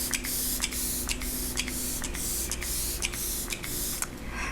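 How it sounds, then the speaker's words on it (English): Quick bursts from a Glow Recipe Watermelon Ultra Fine Mist setting spray, about nine short hissing pumps in a steady rhythm, close and alone over a constant air-conditioner hum. "I'm going to go in with my Glow Recipe Watermelon Ultra Fine Mist just to kind of set everything"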